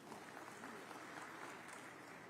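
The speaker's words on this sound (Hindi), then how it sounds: "एक बार ताली बजा करके स्वागत करिए" An audience applauds at a public government meeting in Chhattisgarh on state solar subsidies, a soft, distant, continuous patter of clapping from a crowd.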